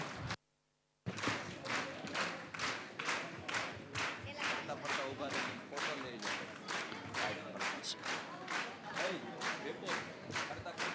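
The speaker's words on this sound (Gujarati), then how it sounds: "આપણે સૌ તાળીઓથી આ બાળકોને વધાવીએ." A crowd claps together in a steady, rhythmic beat, fairly quiet and distant, following a brief silence at the start, honouring children at a BAPS religious discourse gathering in Surat.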